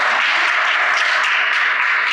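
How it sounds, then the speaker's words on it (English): A Hofstra University audience applauds a co-founder of the Crown Act, a steady, dense round of clapping from many hands, continuous and even throughout. "Let's clap for her."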